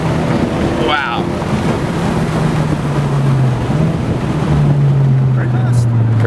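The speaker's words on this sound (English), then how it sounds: "the downshifts sound good on the outside" Heard from outside, a Honda Civic Type R with a PRL intercooler, downpipe, front pipe, charge pipe and Hondata flash drones steadily. Its exhaust note shifts in pitch, with brief rising blips, under heavy wind buffeting on the microphone.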